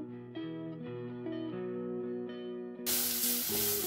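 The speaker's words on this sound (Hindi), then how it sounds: "इसके लिए 2 टेबलस्पून ऑयल गरम किया है मैंने। अब इसमें डालूंगी मैं ये गाजर" Carrots hitting two tablespoons of hot oil, a sudden loud broadband sizzle bursting in near the end over a steady backing of sustained music tones.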